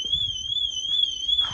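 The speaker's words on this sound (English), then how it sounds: "Oh, surprise, surprise, there goes the alarm." A 1982 Ford Cortina MK5 car alarm: a steady electronic tone with a wavering pitch sounds continuously, fairly loud, over a low rumble of background noise.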